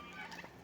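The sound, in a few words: turkey gobbling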